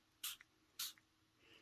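Two quick hissing spritzes from a spray bottle misting a stamping project, close and crisp, spaced about half a second apart in a quiet room.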